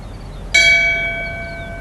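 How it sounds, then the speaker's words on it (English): A single memorial bell is struck once at a community tribute ceremony, giving a sharp clear strike and then a bright ringing tone that fades slowly over a quiet room. "Would you please ring the bell in memory and in tribute for all deceased employees"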